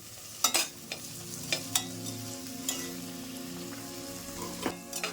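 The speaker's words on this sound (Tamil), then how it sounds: "கொஞ்சம் நல்லா வதக்கிக்கலாம்" Mint leaves sauté in a pan for coconut milk rice, a quiet even sizzle broken by a few sharp spoon scrapes and taps, close up with no talking.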